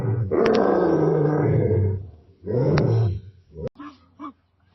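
A lion roars in an animated story: two long, loud, rumbling roars, then a few short grunting bursts that fade out.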